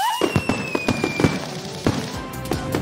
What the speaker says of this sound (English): Fireworks to call Super Truck.